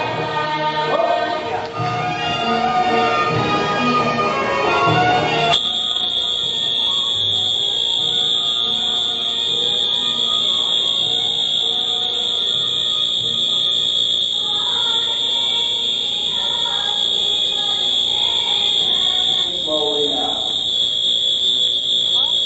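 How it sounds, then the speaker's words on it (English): A fire alarm goes off in a building, a loud, steady high-pitched electronic tone that sounds continuously after a burst of louder mixed noise at the start, with faint background voices beneath it. "when the fire alarm"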